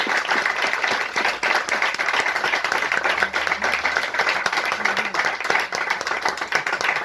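Dense, sustained applause from an audience at a book presentation, steady and fairly loud for several seconds with no talk over it.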